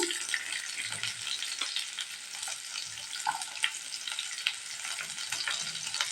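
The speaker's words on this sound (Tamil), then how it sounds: "ஒரு பத்து சின்ன வெங்காயத்தை நறுக்கிட்டு சேர்த்துக்கலாங்க" Steady crackling sizzle of chopped small onions frying in hot oil, with occasional louder pops and faint stirring, no voices.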